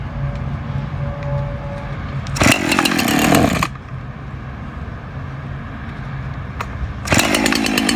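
A Saker mini electric 4-inch chainsaw cuts in two loud bursts of buzzing, close and harsh, over a steady lower background hum.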